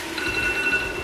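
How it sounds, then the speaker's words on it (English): A kitchen timer beeps steadily through the moment while jollof rice cooks, a thin repeating electronic tone that sits at moderate level over a low room hum. "Oh, there's a timer."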